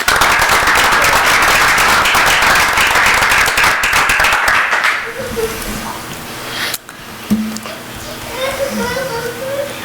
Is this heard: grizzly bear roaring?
no